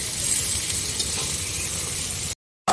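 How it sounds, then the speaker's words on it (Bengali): Whole cumin seeds and chopped onion frying in oil, a steady close sizzle and hiss with faint clinks, cutting to brief silence near the end. "তেলের মধ্যে গোটা জিরে দিয়ে দিয়েছি আর এই যে কাটা পেঁয়াজটা দিয়ে দিচ্ছি। এটাকে একটু ভালো করে ভেজে নেব।"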